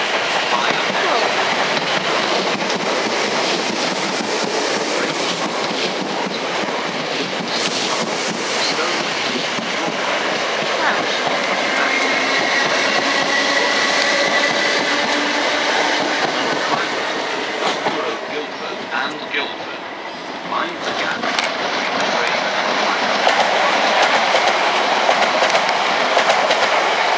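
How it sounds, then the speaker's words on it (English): A South Western train to Guildford rumbles and clatters steadily on the rails as it rolls into platform 11 at Clapham Junction, with a continuous roar, occasional metallic clicks, and faint voices in the background. "The train now approaching platform 11"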